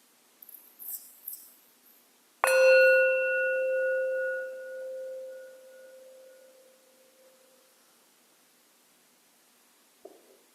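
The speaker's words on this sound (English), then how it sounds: "So we'll start with the sound of a bell." A single meditation bell is struck once, ringing out clear and pure, then slowly fading over several seconds into near silence, preceded by faint soft sounds.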